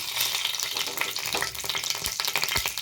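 Oil heating in a pan on a stove gives a dense, continuous crackling sizzle, close and fairly loud throughout, with faint irregular pops and no voices.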